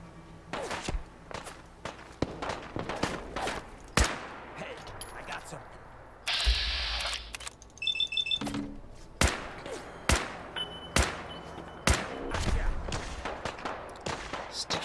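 Enemy gunfire in the game Fallout 4, a series of sharp separated shots popping at irregular intervals alongside footsteps and mechanical clicks, with a voice speaking between bursts.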